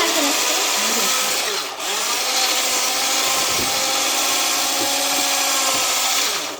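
An electric mixer beats eggs and sugar for a cake, a loud continuous whirring drone that holds steady throughout with one brief dip.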